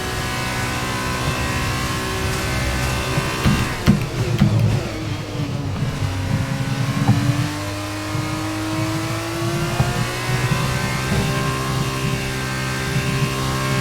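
An F2 race car engine in F1 22 at the Spanish circuit screams at high revs, with gear shifts and a deep drop in pitch as it brakes, then climbs back to a sustained loud whine.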